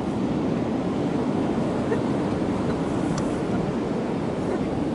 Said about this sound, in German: Und hier gehen riesige Wellen ein.